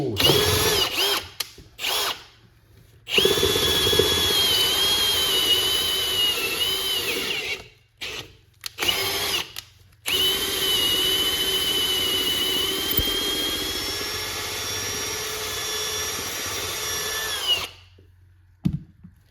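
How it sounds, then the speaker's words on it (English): A power drill fitted with a 33/64 bit bores out a head stud hole in an engine block, whining loudly in long sustained runs with short stop-start bursts and brief silent pauses between them. "So I take my 33/64 bushing, 33/64 bit, a little bit of WD, and just spin her on down."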